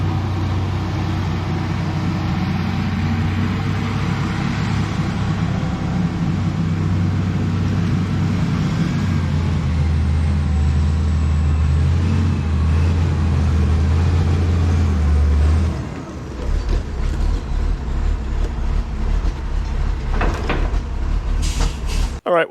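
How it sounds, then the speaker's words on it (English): Heavy wheel loader, lately freed after getting stuck in the woods, rumbling up and down a driveway with a loud steady low engine drone and grinding treads, easing off near the end into choppier rumble. "I'm gonna run this thing up and down the driveway a few times"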